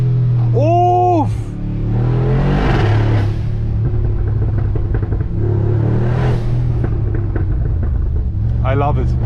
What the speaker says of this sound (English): how do you like the sound of this BRABUS XLP900 Rocket Edition?